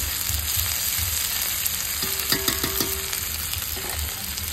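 Onions fry lightly in a pan for a Bengali masoor dal chorchori, giving a soft, steady sizzle with a few brief scraping stirs in the middle.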